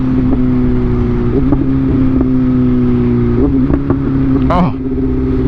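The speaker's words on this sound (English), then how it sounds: "Now, it never pops on the upshifts or anything like that, but downshifts, my god. Pops for days." A motorcycle engine idles and revs at close range, with a steady low engine drone and several sharp crackling pops from the exhaust during downshifts.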